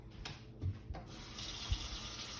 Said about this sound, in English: let's go over here to the faucet